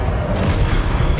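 A Confringo fire spell bursts in the Hogwarts Legacy video game, giving a dense, loud, rumbling explosive roar that fills the whole moment with no quiet gaps.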